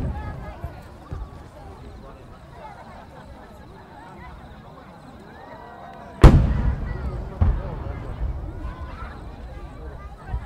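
A Yaeshin henka-giku multi-layer changing chrysanthemum firework shell at the 2010 Agano River Gozare festival bursts with two sharp booms, the second smaller, over steady crowd hubbub.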